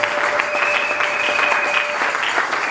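Church congregation applauding steadily during a Sunday worship service, a dense sustained clapping with a faint held tone running through it.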